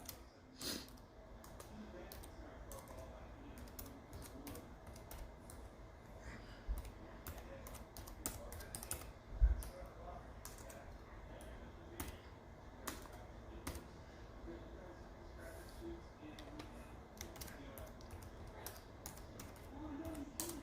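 Close, steady typing on a computer keyboard while entering data into Excel, a continuous run of soft key clicks for about twenty seconds with occasional louder taps and no voice over it.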